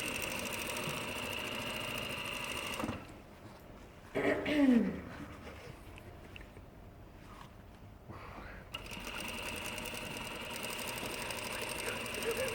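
Sewing machine stitching the seam of a tailored jacket collar cut on the bias. A steady mechanical whir runs for about three seconds, stops through a quiet stretch with a brief throat clearing, then resumes steadily to the end.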